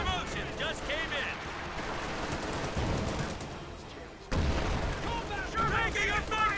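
MG-42 machine gun fire in a video game battle rattles under a dense, continuous wash of combat noise with booming impacts, loud throughout and jumping louder partway through, with voices mixed into the din.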